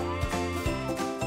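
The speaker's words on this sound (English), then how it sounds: "A goat." A goat lets out a brief bleat, wavering and moderately close, over a soft musical backing with faint jingling.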